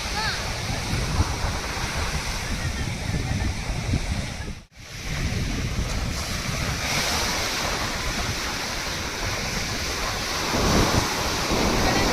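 Ocean waves at Serenity Beach: a continuous loud wash of surf with wind buffeting the microphone, briefly dropping out midway before the roar resumes.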